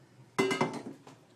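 Snails for backyard survival food tumble into a metal strainer in a kitchen sink, a short burst of clattering, clinking shell knocks over about half a second, then fading.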